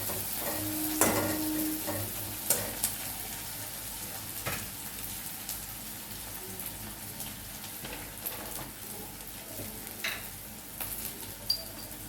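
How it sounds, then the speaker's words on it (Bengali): Chicken frying in a pan with half-fried onions, a soft steady sizzle broken by several sharp stirring scrapes and clinks of utensil against the pan, fairly quiet and close. "পেঁয়াজটা যখন আধা ভাজা হয়ে আসবে, কিছুটা লাল হয়ে আসবে, পুরোটা ভাজবে না, তখন চিকেনটা দিয়ে দেবে।"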